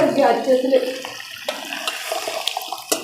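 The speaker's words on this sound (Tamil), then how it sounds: "கொஞ்சம் எக்ஸ்ட்ரா தண்ணி ஊற்றி, ஓகே, எக்ஸ்ட்ரா தண்ணி ஊற்றி நல்லா மிக்ஸ் பண்ணி" A gush of water pours and splashes at close range into cooked dal, then settles into soft trickling and light clinks while someone talks over the start.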